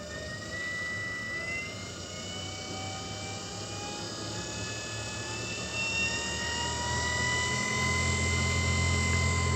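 An electric motor on a Solectria charger test bench spins up, a loud continuous whine with several rising tonal pitches and a steady low rumble that swells gradually over about ten seconds.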